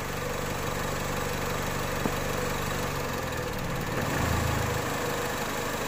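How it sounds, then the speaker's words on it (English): Car engine idling roughly and nearly stalling after its MAF sensor output is cut, a continuous low rumble that stumbles and surges near the end, close and alone. "Vehicle nearly cuts out."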